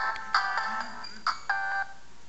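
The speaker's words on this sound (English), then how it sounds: "That's my ringtone." An AT&T BlackJack phone plays its ringtone, a series of short bright electronic melody notes in quick rhythm, clear and close, with no talk over it.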